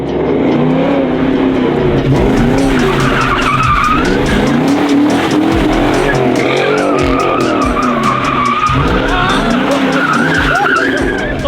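A Ford Mustang drifts around a cone course, its tires screeching continuously while the engine revs hard, loud and close, with voices faintly under the noise.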